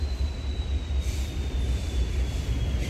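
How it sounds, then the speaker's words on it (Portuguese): A train rumbles steadily past a campsite, a low continuous roar with a faint thin wheel squeal above it, moderately distant and without voices. "Olha ali passa o trem"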